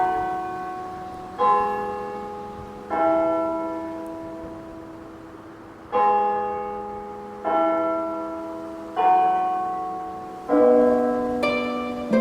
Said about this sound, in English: Oh, and the bells are going at the same time as I'm passing by.